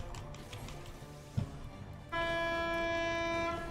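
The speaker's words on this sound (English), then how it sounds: "Honk. Honk." A horn honking in the Final Fantasy XIV game, entering partway through as a steady, loud sustained tone with rich harmonics that holds for over a second after a brief thump, above quiet background noise.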